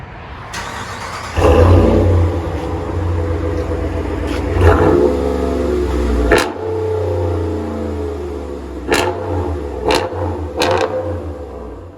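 A RAM 1500 pickup with the 5.7L HEMI V8 and a Corsa exhaust, heard from inside the cab, rumbles at idle and then revs hard several times in loud, deep surges that settle back between bursts.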